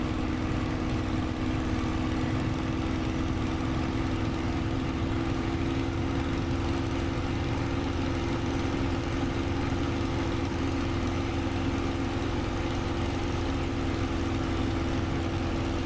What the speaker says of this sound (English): be prepared for that kick of the engine as the torque increases